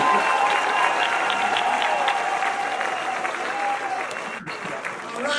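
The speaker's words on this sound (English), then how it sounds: "Come on, y'all, clap." Applause from a comedy show audience fills the room, a dense, steady clatter of many hands clapping continuously throughout, with crowd noise mixed in and a brief dip near the end.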